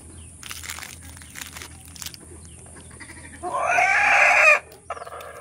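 A rooster crows loudly and close for about a second, with soft clucking and scattered fowl calls before and after it in an outdoor setting.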